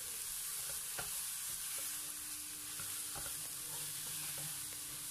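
Chicken fries in a pan with onion and garlic, a constant bright hiss with a few soft knocks and scrapes from stirring, close and steady, no voices.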